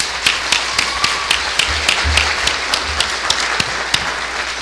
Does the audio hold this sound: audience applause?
yes